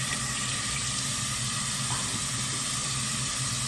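Water pouring steadily from a tap while a face gel is rinsed off skin during a skincare routine, a constant close hiss with no break and no one speaking.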